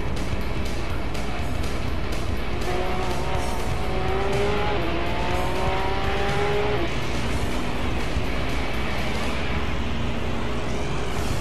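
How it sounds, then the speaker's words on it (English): Porsche GT3 Cup race car engine through a corner during a race, a steady loud roar with rising and falling gear tones and faint tire noise, continuous throughout. "you can just see the massive cornering difference in that GT3 Cup racer"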